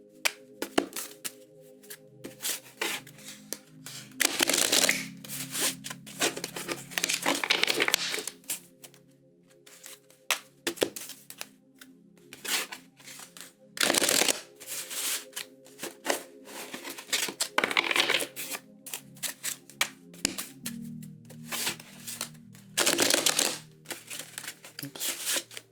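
Bursts of tarot card shuffling, quick riffling and papery flicks, repeated several times with pauses between, over a faint steady hum.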